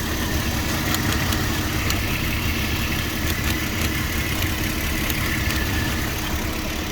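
A 2006 Porsche Cayenne engine idles with a misfire and shaking despite new spark plugs and coils, giving a continuous close rumble with faint irregular ticking throughout.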